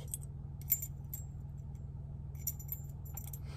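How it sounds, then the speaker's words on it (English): Old car keys, including Ford keys, jangle and clink inside a jar in short bursts separated by quiet pauses, close and fairly soft. "There's just a whole bunch of random keys."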